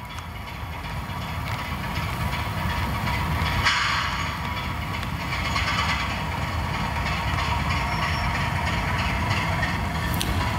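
Two model railway locomotives run together on one piece of track, giving a continuous low motor hum and faint rail clatter at close range with no talking.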